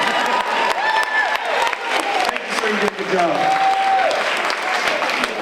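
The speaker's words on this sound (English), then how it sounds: "everyone give a big round of applause for Brandy" A crowd at a Hood County pageant-style contest applauds loudly and cheers for a participant, sustained clapping with whoops throughout, while an announcer speaks briefly over it.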